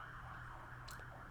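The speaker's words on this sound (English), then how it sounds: "that is a siren. I don't know if you guys can pick that up," Siren wailing outside, faint and distant, a steady rising-and-falling tone under a low background hum, with no talk.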